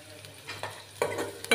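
Ginger and garlic sautéing in a pan while being stirred, a few soft scraping bursts and brief sizzles, quiet and close, with no talking.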